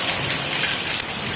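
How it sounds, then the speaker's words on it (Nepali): Heavy monsoon-season rain pours steadily onto surfaces and a parked truck in Nepal, a dense close hiss of drops with no voices, lasting only a moment. "सावनको पानी।"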